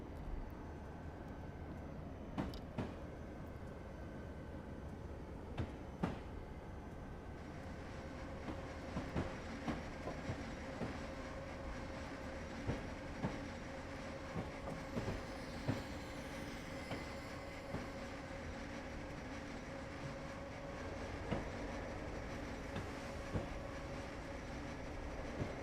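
A CSX SD40-2 freight train on the Hudson Line in Train Simulator 2019 rolls steadily with a low diesel rumble and track hum, broken by faint periodic clicks and clacks of wheels over rail joints.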